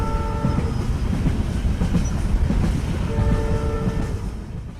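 An animated story's train rumbles along at a steady pace with a rolling clatter of wheels, and a horn sounds briefly at the start and again near the end.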